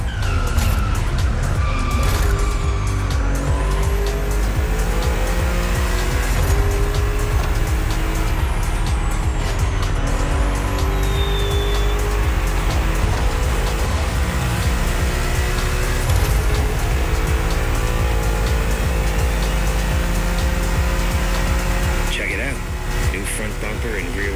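A tuned car from the Liberty Walk playlist in the video game The Crew Motorfest, with wide riveted fenders and low side skirts, its engine revving and droning steadily with tire squeals, loud and continuous, while a voice talks over it.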